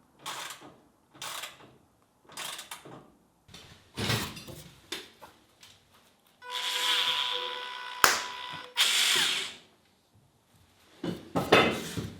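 Around shipping containers, a power drill whirs in a steady burst lasting a few seconds between clatters and knocks of tools being handled, with further sharp metallic taps before and after.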